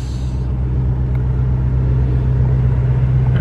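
A Lamborghini Urus accelerates hard in Kansas City, its engine a deep, steady rumble that holds loud and close, heard from inside the cabin with no talking.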